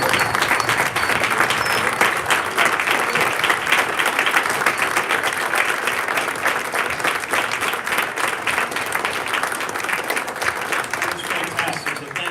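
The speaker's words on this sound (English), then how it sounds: "Let's go around and applause for them, please." Long, loud ovation from the audience at a Morris Plains borough council meeting during a centennial reenactment, sustained dense clapping with a faint crowd murmur underneath, tapering a little near the close.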